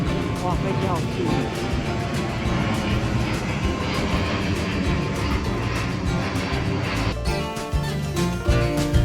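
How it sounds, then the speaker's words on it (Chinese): An airplane flies low overhead near an island beach in Penghu, Taiwan, giving a loud, steady roar that fills the clip, with voices talking over it. "哇，飞机好近。"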